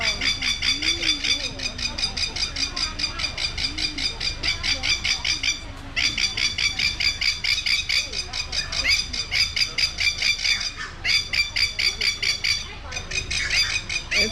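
A black-and-white bird at a zoo squealing loudly and repeatedly in a fast, rhythmic series of shrill calls with brief pauses, close by, while a person talks quietly underneath.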